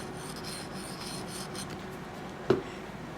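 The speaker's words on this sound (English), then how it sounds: "I've got a couple of sharpening stones here. They're just fine stones and I put oil on them." A knife drawn across a fine sharpening stone coated in oil, giving a continuous soft rasping rub, with one sharper scrape or tap near the end.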